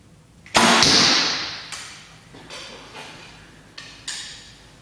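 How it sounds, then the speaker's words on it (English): Arrows shot from a Hoyt Carbon Spyder Turbo bow strike an archery target, one loud sharp impact followed by several fainter thuds and ticks spaced about a second apart, alone without talk. "The arrows impacting the target are actually making more noise."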